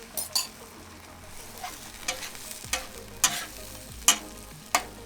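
Chorizo and eggs sizzle on a PitBoss flat top griddle, a soft continuous fry broken by repeated sharp spatula scrapes and taps against the steel at an uneven rhythm.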